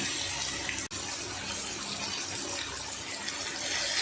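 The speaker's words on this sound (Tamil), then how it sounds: "இதில் கொஞ்சமாக ஒரு கால் டம்ளருக்கு தண்ணி சேர்த்து அந்த சிக்கனை கொஞ்சம் நேரம் வேக விடலாம்" About a quarter tumbler of water is poured into chicken cooking in a pan, making a continuous, fairly loud splashing rush that runs steadily throughout with no talking.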